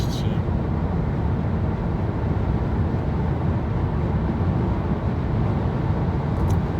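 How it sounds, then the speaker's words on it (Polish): Inside a VW Multivan cruising on a motorway at about 140 km/h, a steady, loud roar of engine drone mixed with wind rush fills the cabin, constant and unbroken throughout. "bardzo głośno słychać ten silnik"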